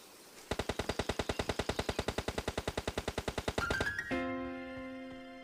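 Automatic gunfire in the PUBG Lite battle royale game, a loud, rapid burst of about thirty evenly spaced shots followed by a sustained ringing in-game tone, with no voices.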